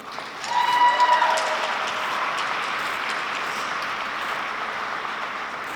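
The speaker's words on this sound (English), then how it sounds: "Please join me in giving them all a round of applause." An audience at an event applauds in a sustained round of clapping that swells quickly and holds steady at a fairly loud level, filling the room without any speech over it.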